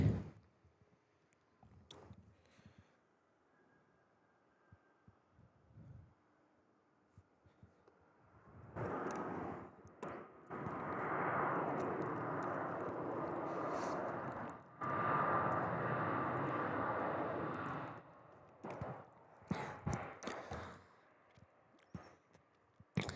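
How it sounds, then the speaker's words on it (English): A jet airliner arrives at Seoul Incheon Airport on a spring morning, its close, loud engine roar swelling abruptly from a quiet outdoor hush, holding steady for about nine seconds, then falling away to faint ambience and scattered light knocks. "Is the jet coming in?"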